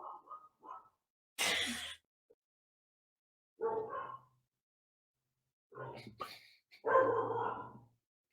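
A human voice imitates a dog's barks, standing in for a Foley dog in The Shining, giving scattered short woofing bursts with pauses between them, close and clear among brief bits of talk.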